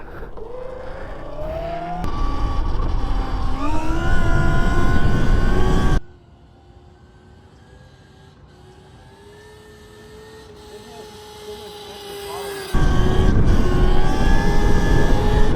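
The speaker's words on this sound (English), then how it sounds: "It has just so much extra throttle to keep the wheelie going." A Sur-Ron electric mini dirt bike revs hard during a wheelie. Loud rising whines are heard close up, then the motor drops to a quieter hum for several seconds before the loud whine surges back.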